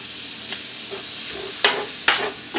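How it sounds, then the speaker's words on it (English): Sausage gravy with milk bubbles and sizzles steadily in a pan while a spoon scrapes and stirs through it, with a couple of sharper scraping strokes near the end, close and alone. "you also have to make sure that you keep stirring this constantly or you'll burn the heck out of it"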